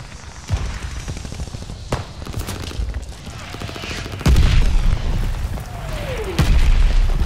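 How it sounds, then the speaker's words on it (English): Allied mortar fire in Call of Duty: Vanguard lands as several heavy booms mixed with scattered gunshots, including a loud, close blast partway through and a sustained rumble afterward. "Heads up! Allied mortar fire coming!"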